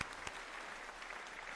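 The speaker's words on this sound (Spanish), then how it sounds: "un fuerte aplauso por favor para nuestros auspiciadores" An audience applauding sponsors at a presentation: a short burst of dense clapping, fairly close and steady, with no talk over it.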